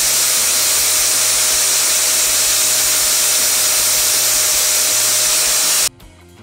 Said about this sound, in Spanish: le voy a poner una pulida aquí porque tiene mucho exceso de soldadura